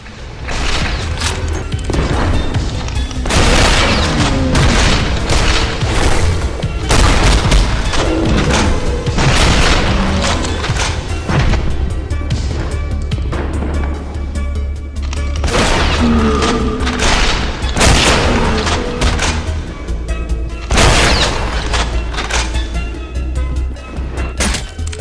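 Gunfire and explosions from Strafe, a retro-style first-person shooter played on an Acer Nitro 5, a loud, nonstop barrage of booming blasts, crashes and rapid shots, heavy with music, running unbroken throughout.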